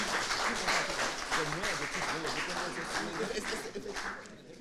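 Quiz show audience applauding a contestant in a studio arena, clapping that fades toward the end while a presenter speaks over it.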